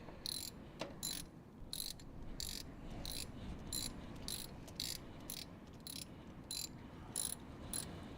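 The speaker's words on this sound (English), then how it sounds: "Just snug it up with the wrench." A ratchet wrench clicks in short, regular bursts while snugging a bolt on a Dodge Charger, the quiet, close pawl chatter repeating about once a second with no talk.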